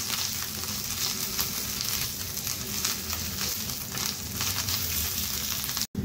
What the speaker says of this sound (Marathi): त्यात मी आता लसूण आणि आलं घालते। हे पण आता व्यवस्थित परतवून घेऊया।